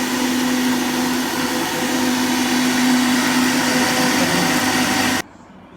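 An electric chopper runs at high speed chopping chaat ingredients for dahi vada at iftar, giving a loud, steady whirring drone that holds for about five seconds and then cuts off abruptly.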